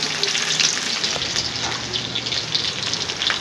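Loud, steady sizzling and crackling of one whole head of garlic dropped into five tablespoons of hot cooking oil, continuous and close, with no talking.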